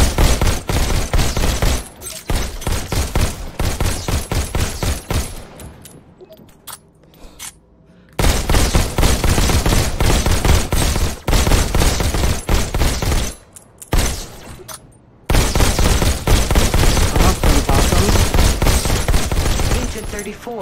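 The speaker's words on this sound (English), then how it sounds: "Just squeeze the trigger to shoot." Pistol gunfire in the VR shooter Robo Recall, with dense bursts of loud, close shots and impacts packed together over game music and effects, broken by a few short quiet gaps.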